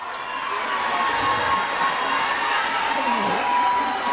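Crowd cheering and shouting at a girls' high school basketball semifinal in a gym, a steady, loud roar of many voices lasting throughout with a commentator's voice over it.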